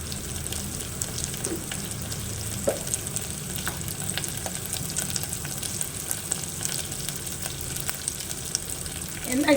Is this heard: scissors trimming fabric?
no